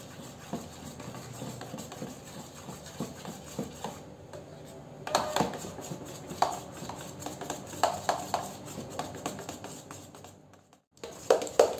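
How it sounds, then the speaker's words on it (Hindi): A spoon whisks thick cream in a bowl to churn butter for homemade ghee, tapping and scraping in a steady, irregular rhythm of clinks against the bowl, fairly faint and close. "स्पून से हमें कंटिन्यू मिलाना है।"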